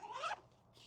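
A zipper on an urban everyday-carry backpack is pulled open in one quick, close rasping stroke, followed by a faint rustle.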